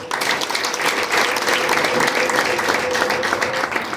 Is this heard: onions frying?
no